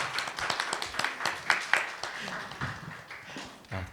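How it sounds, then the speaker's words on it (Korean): Scattered, uneven handclaps from a small audience at a book talk concert, distinct individual claps at irregular intervals that thin out toward the end, with faint voices and movement around them. "박수 한번 쳐주세요."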